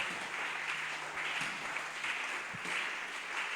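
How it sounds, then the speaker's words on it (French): A church congregation applauds steadily, a dense, even wash of clapping from many hands that fills the room throughout. "Acclamons très fort le Seigneur Jésus"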